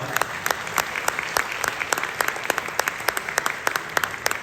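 An audience applauds steadily at a lecture event marking a presidential 150th anniversary, dense clapping with a few sharper claps standing out, continuous for the whole stretch without talk.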